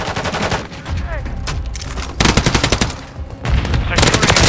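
Rapid machine-gun bursts in Call of Duty Modern Warfare 3, loud and close, coming in dense rattling volleys with brief gaps between them and a short in-game voice callout in the mix.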